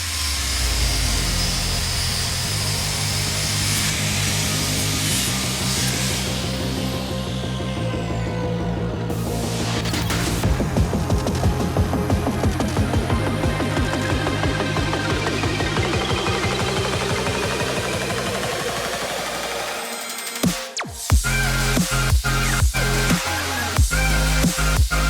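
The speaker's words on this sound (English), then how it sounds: "I ran a flat disc along the edge to deburr them" A loud, steady grinding whine of a flat disc deburring the edges of a metal plate for a sash clamp extension, with shifting pitch as it runs along an edge, ending in a few sharp clanks.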